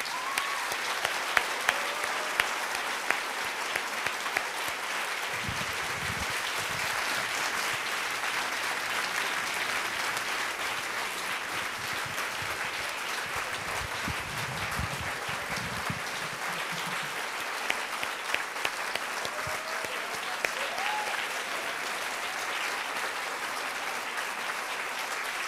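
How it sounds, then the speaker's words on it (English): An audience at the PH+SocialGood Summit 2013 applauds for Lieutenant Alex Deazeta, sustained dense clapping that fills the room evenly for the whole stretch, with a few sharper individual claps standing out. "Please, let's give him a round of applause."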